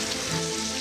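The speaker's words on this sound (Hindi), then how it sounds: "बारिश का हाल" Rain falling in a steady, dense hiss of drops on a surface, close and continuous with no voices.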